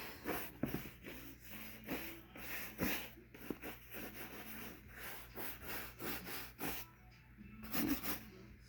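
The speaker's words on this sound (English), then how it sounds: "I take this brush and I just make sure all that oil and the Snowproof gets in all the nooks and crannies" A brush works oil and Snowproof into a leather boot in quick, rhythmic back-and-forth strokes, soft bristly rasps close by with brief pauses between passes.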